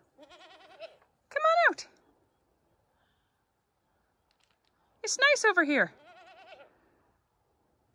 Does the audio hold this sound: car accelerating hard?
no